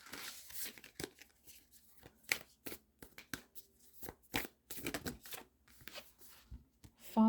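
Quiet, repeated bursts of tarot cards being shuffled by hand, riffling and slapping in uneven rhythm, close up with no talking.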